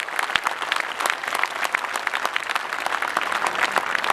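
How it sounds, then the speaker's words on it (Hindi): A large audience at a Hindi kavi sammelan poetry gathering claps vigorously, a dense, sustained burst of many hands filling the hall without pause. "पूरा सदन जोरदार तालियां बजाएं।"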